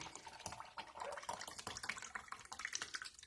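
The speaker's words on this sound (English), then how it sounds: "I just pour some of my liquid out into a little cottage cheese bowl." Fermented chicken feed liquid pours into a small cottage cheese bowl, a steady splashing trickle running close by for about three seconds with no talk over it.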